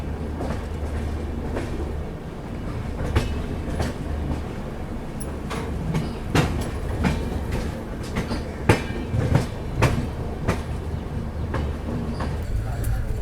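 An Amritsar Shatabdi express train running on the rails out of New Delhi, heard from inside as a constant heavy rumble broken by rhythmic clickety-clack rail joints and occasional sharper knocks.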